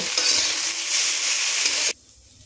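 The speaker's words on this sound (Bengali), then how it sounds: "সয়া সসটা দিয়েও ভালো করে নাড়াচাড়া করে ভেজে নেব।" Chowmein with vegetables and egg being stir-fried with soy sauce, a loud, close, sizzling hiss with stirring that cuts off abruptly near the end.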